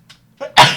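A single close sneeze, a short intake followed by a sharp loud burst.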